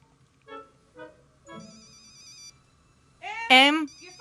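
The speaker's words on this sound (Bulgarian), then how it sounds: "Телефонът ти." A telephone rings indoors in a steady electronic pattern of repeated bursts, followed by a brief melodic chirp.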